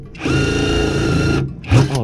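An impact wrench with a 19 mm socket working on the brakes of a Honda Civic during a rear disc brake conversion: one long, loud whirring burst, a brief pause, then a shorter hammering burst, close up.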